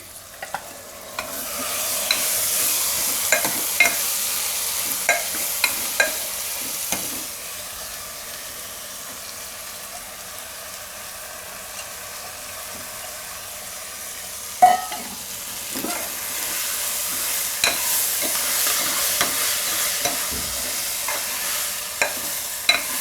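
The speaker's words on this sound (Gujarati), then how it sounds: "હવે આમાં દાળ નાખી દઉં. થોડુંક આને મિક્સ કરી દઉં." Mixed dal is stirred into vegetables frying in a pan for a Gujarati bottle gourd shaak, with a soft continuous sizzle and hiss and intermittent spatula scrapes and taps against the pan.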